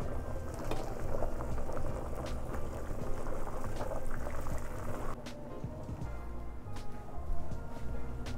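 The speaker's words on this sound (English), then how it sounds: "So I'm just gonna take it right out, let the water drain off." Water draining off blanched kale, a continuous bubbling, splashing pour that stays fairly even, easing slightly partway before swelling again, with no voices.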